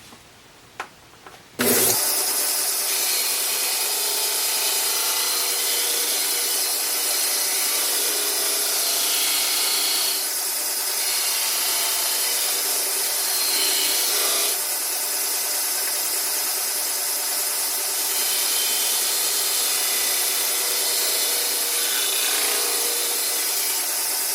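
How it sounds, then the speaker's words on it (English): A disc sander grinds steadily against a wooden base to smooth and round its edges, a loud continuous whir with small shifts in pitch as the wood is pressed and moved, following a few quiet clicks. "We'll do this on the disc sander."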